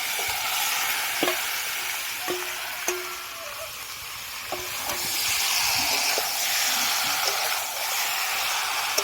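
Spiced chicken frying in a pan gives a steady, loud sizzle and hiss, broken by sharp clicks and scrapes of stirring, with the sizzle briefly swelling louder partway through.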